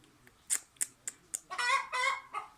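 An irritated hen clucks and squawks close by, a run of short sharp clucks followed by longer scolding cries, loud and alone.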